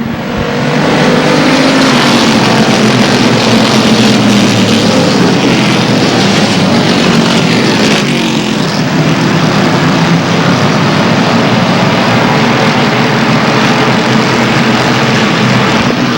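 Race cars roar around the oval at Airborne Speedway in 1999, a loud continuous engine drone as the pack battles side by side through the turns, with passing cars shifting in pitch.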